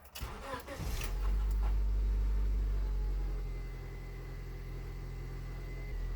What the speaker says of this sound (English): When we start the car now